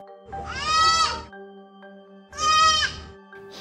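Two loud, drawn-out bleats from a lost baby deer calling for its mother, close by, separated by a short pause with a faint steady hum underneath.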